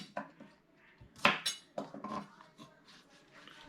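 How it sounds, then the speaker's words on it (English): A knife chops green onion on a cutting board, giving several sharp, close knocks and clinks spaced irregularly, with a few louder hits and quieter taps in between. "First, let's cut the green onion."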